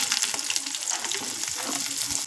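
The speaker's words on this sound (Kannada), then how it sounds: "ಇವಾಗ ಎಲ್ಲನೂ ಚೆನ್ನಾಗಿ ಮಿಕ್ಸ್ ಮಾಡಿ ಚೆನ್ನಾಗಿ ಈರುಳ್ಳಿ ಎಲ್ಲ ಎಣ್ಣೆಯಲ್ಲಿ ಫ್ರೈ ಮಾಡ್ಕೊಳ್ಬೇಕು" Sliced onions with dried red and green chillies fry in hot oil for a village-style Karnataka dish, a dense close sizzle with faint stirring through it, no voices.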